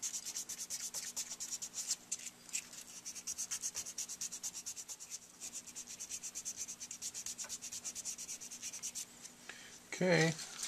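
Fine-grit sandpaper rubs back and forth on a bite plate in quick, even strokes, a close, rhythmic scratchy rasp that continues steadily, with a brief tonal noise near the end.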